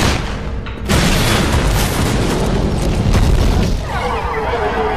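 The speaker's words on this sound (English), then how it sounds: "Grenade launcher." A grenade launcher round explodes in Left 4 Dead 2 on Xbox 360. A sudden loud boom hits after a short lull, then a dense roaring, crackling rumble rolls on for several seconds.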